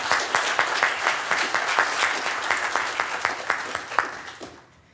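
An audience applauds at the close of a training day on influence campaigns held by a Swedish county administrative board, steady dense clapping throughout that fades out at the very end.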